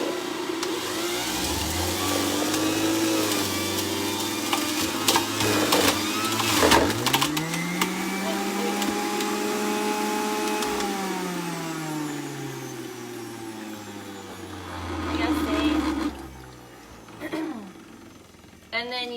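A celery juicer runs loudly up close with a steady whirring motor drone that shifts pitch as stalks are fed in, with a few knocks and clatters near the end.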